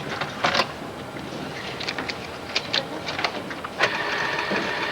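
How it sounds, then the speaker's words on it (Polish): A printer printing a hotel registration card, heard as a close run of uneven mechanical clicks and whirring feed noise at a busy reception desk. "Drukarka zrobi to ładniej"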